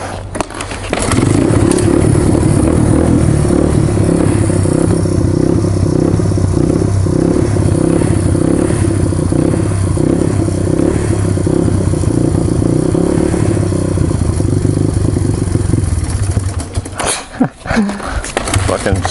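A Honda XR200R motorcycle, cold-started with the choke off, runs loud and close with a rough, uneven engine note for most of the time, then falls away near the end with some clatter and a speaking voice.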